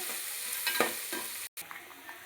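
Onions frying in a pan for mutton biryani, browning with a steady broadband sizzle and a few scraping stirs of a spoon, close and moderately loud, with a brief cut near the end.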